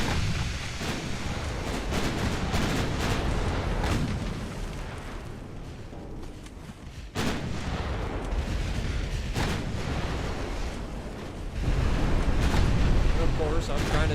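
Battleship gunfire and shell explosions from the naval warfare game Ultimate Admiral Dreadnoughts: heavy, continuous rumbling booms with sharp bursts, swelling louder toward the end.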